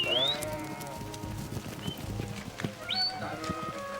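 Sheep from a flock of about 2,500 on a farm worked by Border Collies bleat in a few short, high calls over a busy background of shuffling hooves and low murmuring.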